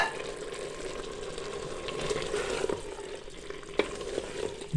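Potatoes and minced meat are stir-fried in a pan for dhaba-style aloo qeema, with a steady close sizzle and scraping stirring strokes throughout, plus a couple of louder clanks near the end and no talking.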